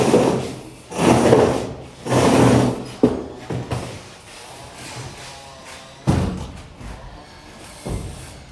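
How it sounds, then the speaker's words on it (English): A door laid flat on the floor and shoved along with a knee gives several loud scraping thuds and rubbing drags of wood, with quieter knocks and shuffles between pushes, close by. "The next option is actually placing the door flat on the ground and pushing it with your knee."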